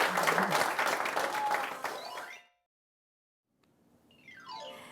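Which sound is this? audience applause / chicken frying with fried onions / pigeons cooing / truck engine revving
audience applause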